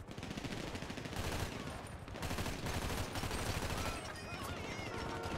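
Rapid gunfire rattles through a GTA roleplay shootout in dense, repeated bursts, fairly close and continuous, mixed with people talking over the shots.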